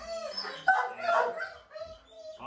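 Several dogs bark, yip and whimper at a home dog boarding setup in the morning, a close, fairly loud tangle of overlapping yaps over a couple of seconds.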